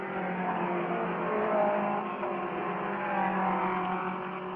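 Racing cars from the Glover Trophy flat out on a straight before Madgwick Corner, a dense, continuous engine roar heard at a distance that swells and eases slightly, with no talk over it.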